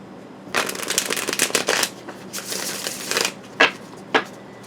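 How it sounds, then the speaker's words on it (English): Tarot cards are shuffled in quick riffling bursts, a papery flutter that comes in several runs and ends with two short separate snaps, close up. "Oh, I should have shuffled these up."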